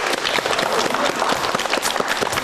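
A studio audience claps steadily for contestant Nurbek on a Kyrgyz dating show, a dense run of applause that lasts the whole moment.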